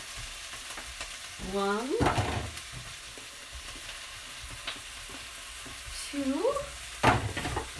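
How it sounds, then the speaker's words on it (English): Sausage meat sizzles and is stirred in a pan over softened, sweated-down ingredients for a sausage and fennel pasta sauce. A steady frying hiss runs throughout with scraping stirs, and a voice speaks briefly twice. "So I'm going to start adding the sausage meat."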